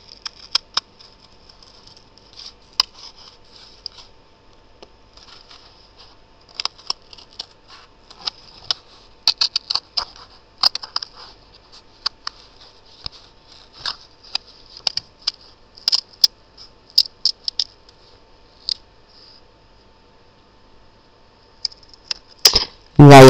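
Scissors snip through cardstock in short, irregular bursts of crisp clicks and cuts, close up, with quiet pauses between runs of cutting.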